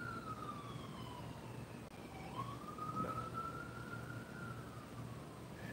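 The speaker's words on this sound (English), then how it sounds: "Ambulance." A distant siren wails, its pitch sliding down and then rising again over a low, steady background rumble.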